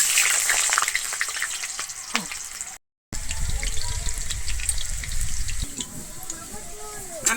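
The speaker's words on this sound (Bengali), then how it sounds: "আমার তেলটা গরম হয়ে গেছে আমি প্রথমে আলুগুলো ভেজে নিচ্ছি" Potatoes sizzle steadily in hot white oil with a constant crackling hiss and occasional light clinks. The sound cuts out briefly partway through.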